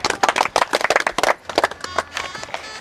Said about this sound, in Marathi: सगळ्यांनी टाळ्या वाजून त्या विद्यार्थ्याचं स्वागत करूया